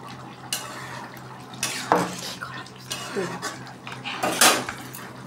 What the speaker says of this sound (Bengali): আমার এঁচোড়টা হয়ে গেছে, হ্যাঁ সব সেদ্ধ হয়ে গেছে সুন্দর করে। আমি একটু মাখো করে নামাচ্ছি